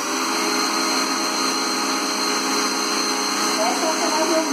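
Blender running steadily, mixing chocolate cake batter of milk, oil and eggs, with a continuous loud whirring motor drone throughout and no pauses.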